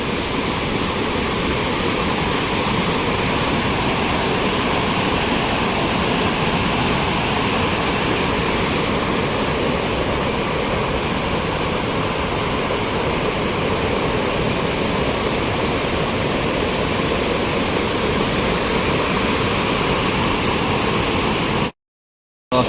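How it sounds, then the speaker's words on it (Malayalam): The lower tier of Kappimala waterfall in Kannur, Kerala, roars continuously, a dense, loud rushing wash of falling water without a break until it cuts out at the very end. "വെള്ളച്ചാട്ടത്തിൻ്റെ താഴെ തട്ടാണ്"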